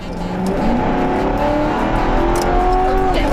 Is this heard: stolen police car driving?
yes